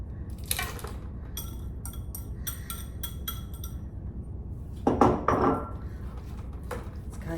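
Crab meat being folded into a creamy crab cake mixture in a bowl, with steady wet squishing and scraping, a run of sharp utensil clinks against the bowl early on and a louder burst of mixing midway.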